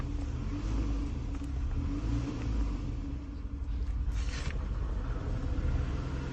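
A 2008 Toyota Camry engine with a faulty, unresponsive throttle body idling with a deep steady rumble and a slight rise in revs, close and continuous with no talking.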